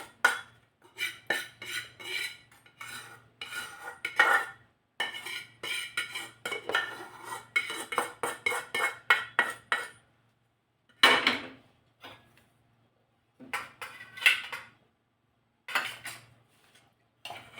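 Roasted besan (gram flour) being scraped from a pan onto a plate: rapid metal spoon clinks and scrapes in bursts, close and clear, with short pauses near the end.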